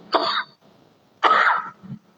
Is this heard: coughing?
yes